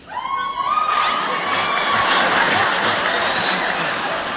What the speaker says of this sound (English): He takes his jacket off and the audience applauds and screams.